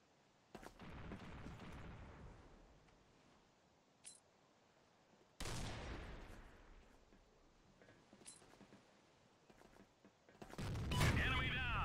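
Bursts of rapid machine gun fire from the shooter game Combat Arms, sharp sustained volleys separated by quieter gaps, ending in a loud close blast, with someone talking at times.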